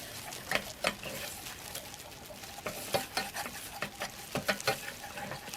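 A cornstarch and sugar mixture being stirred for a strawberry mirror cake, giving quiet scraping and tapping strokes in an uneven rhythm, close by and with no voices.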